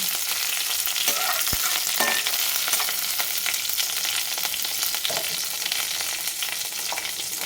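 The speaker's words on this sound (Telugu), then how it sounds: "ఆవాలు జీలకర్ర ఇవన్నీ బాగా వేడి చేయాలి" Mustard seeds and cumin sizzle steadily in hot oil for a German turnip curry, a loud continuous crackle with a few sharp pops and occasional scraping of a spoon, no voices.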